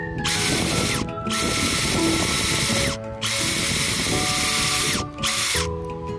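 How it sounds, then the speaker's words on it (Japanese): A power drill whines loudly in three long bursts separated by short pauses, boring a screw hole into the metal body of a Daihatsu Hijet outdoors, up close. "はい、ではドリルで穴を開けていきます。"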